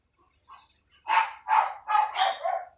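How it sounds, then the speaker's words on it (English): Dogs barking in the background of a home, four or five quick moderate barks in a cluster after a few faint yips, slightly distant and with no speech over them. "What are they barking?"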